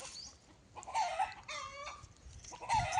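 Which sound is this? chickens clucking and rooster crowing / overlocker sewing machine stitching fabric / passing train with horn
chickens clucking and rooster crowing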